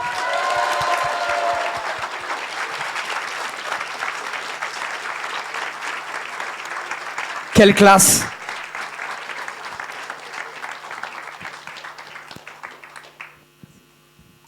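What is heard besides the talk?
audience applause at a closing ceremony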